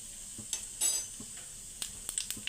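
A spoonful each of cumin and sesame seeds crackles faintly in hot oil in a pan, with soft sizzling and a few sharp pops and light utensil taps, fairly quiet and without speech.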